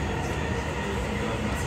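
Dubai Metro train on the Red Line toward Business Bay, a steady loud rumble and rush of the moving carriage heard from inside, continuous with no distinct clacks.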